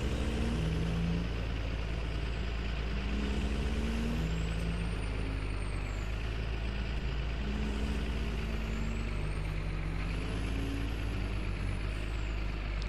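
A CT660 truck engine in a farming video game drones steadily and loudly for the whole stretch, with low engine tones stepping up and down through gear changes and a faint high whine rising and falling over the top.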